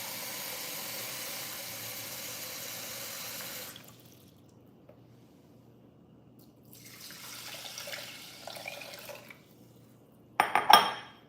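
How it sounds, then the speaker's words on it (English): Water runs steadily into a bowl, then stops; after a pause comes soft swishing of rice grains being washed in the water and a few clinks near the end. "Fill it up with water and wash it again for 2 more times."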